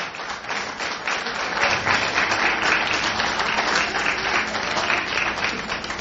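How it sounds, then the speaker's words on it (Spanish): A church congregation breaks into enthusiastic applause, a dense wash of clapping that swells in the middle and holds steady to the end, with no voices standing out. "denle ese aplauso con entusiasmo"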